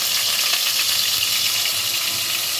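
Loud, continuous sizzling and crackling of ground onion paste frying in oil for Guntur gongura chicken curry, close by and steady throughout.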